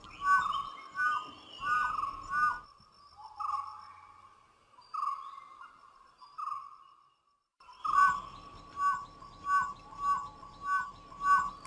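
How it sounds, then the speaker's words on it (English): A dhole in an Indian forest gives high, piping whistle calls repeated in bursts, some rising and falling, with quieter gaps between the series; no talking. "Known as the Whistling Hunters, the dhole cannot bark the way dogs do."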